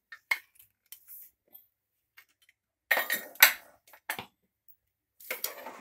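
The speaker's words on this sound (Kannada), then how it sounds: "ಲಿಡ್ ಓಪನ್ ಮಾಡ್ತಾ ಇದ್ದೀನಿ." A cooled pressure cooker lid being opened after cooking avarekalu and beans: scattered metallic clinks and clatters, a few sharp knocks, with a cluster of louder rattling bangs midway and quiet gaps between.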